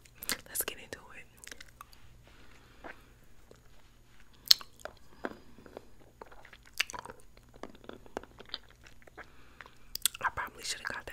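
Someone eats a sour apple Blow Pop lollipop up close, with soft intermittent crunching, biting and wet chewing sounds between quiet whispering.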